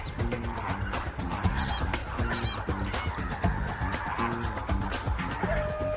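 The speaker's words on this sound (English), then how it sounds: "This is the largest population of lesser flamingo found anywhere in the world." A huge flock of lesser flamingos at Lake Bogoria keeps up a dense, continuous chorus of nasal honks and gabbling calls, many birds overlapping at once.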